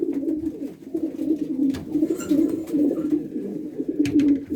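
Racing pigeons coo continuously in a loft in low, throaty rolling calls, several birds overlapping close by, with soft rustling and occasional clicks.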